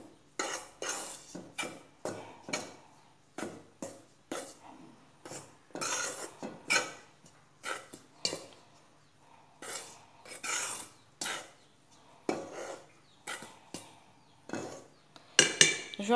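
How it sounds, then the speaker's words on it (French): Sugar and yeast are stirred in a bowl for savory crêpe batter, giving a quiet run of scraping and clinking strokes in an irregular rhythm, close and alone. "Donc je vais d'abord mélanger."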